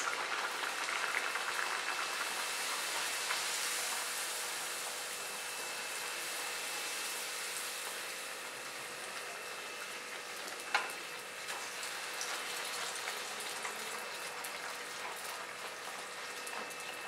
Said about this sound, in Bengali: তেল গরম হয়ে গেছে, এবার আমি কচুরিগুলো একটা একটা করে ভাজবো।